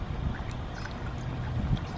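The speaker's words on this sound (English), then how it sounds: "we need to add salt to the water. Just put it in there." Salt is added to a container of water for a floating egg experiment, giving a soft, faint trickling and pouring sound that lasts the whole brief moment.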